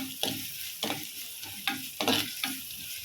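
Onions and chopped curry leaves fry in a pan for spicy kuzhi paniyaram, a close sizzle broken by several loud scraping stirs at uneven intervals.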